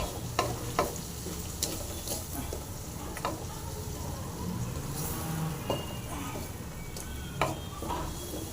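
Bitter gourd leaf chutney mixture frying in a pan, a constant sizzle under repeated spatula scrapes and clinks against the pan, close and steady.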